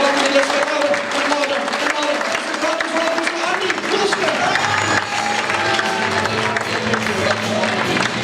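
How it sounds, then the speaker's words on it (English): An audience gives Andy Woolston a round of applause as he comes on for a comedy set, with continuous clapping and some murmuring voices underneath. "Stand round of applause"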